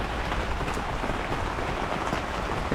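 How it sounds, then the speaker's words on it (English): Rain drums steadily on a small plumeria hoop-house greenhouse in a garden, as a dense, even hiss with no break from start to finish. "You can hear the rain coming down."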